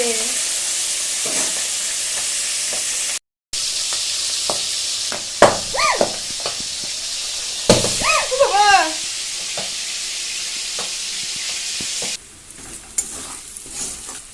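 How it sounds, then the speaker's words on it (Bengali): Fish frying in hot oil in a home kitchen, a steady sizzle with sharp spattering pops and crackles throughout, and a brief dropout partway through. "এই মাছগুলো না ভীষণ ফাটে"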